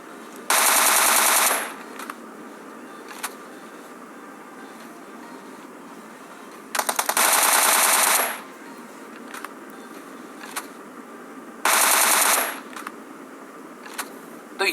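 Automatic gunfire in the battle royale video game PUBG. Three loud sustained bursts, each lasting a second or more, separated by quieter stretches with scattered single shots and faint game ambience.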